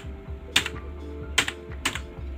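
Keys clacking on a computer keyboard while Arduino code is typed, three short bursts of close, crisp keystrokes over a faint hum.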